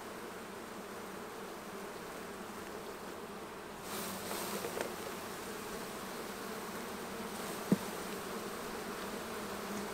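Honey bees buzz steadily around small hives for virgin queens, a dense continuous drone at close range with brief louder swells and a sharp knock partway through.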